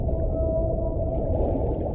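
A whale's low, droning underwater call holds steady and loud for the full stretch, with a faint tonal line running through it and no voices.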